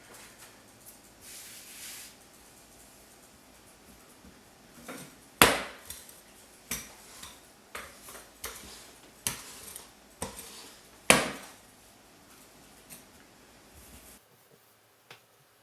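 Apple pie dough rolled out with a rolling pin on a floured surface, heard as a series of sharp wooden knocks and taps spaced irregularly over the middle stretch, with soft rolling scuffs between them and quiet pauses at the start and end.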